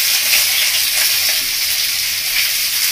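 Steady loud sizzle of chopped onions and tomato frying in hot oil in a pan, a dense continuous crackle close by with no talking.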